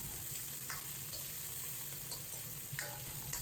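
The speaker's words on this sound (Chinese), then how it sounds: "将五花肉丁炒出油" Diced pork belly stir-fries in a smoking-hot oiled wok, giving a quiet, steady sizzle broken by a few faint clicks and scrapes of stirring.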